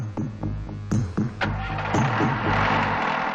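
A vehicle engine turns over and catches, then settles into a loud, close, throbbing idle with a few sharp mechanical clunks as it gets ready to pull away.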